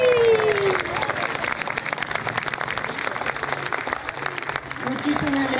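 An audience claps after a song at a bicentennial independence tribute concert, dense applause and some cheering filling the room, fading slightly and then swelling again, with a voice speaking over it.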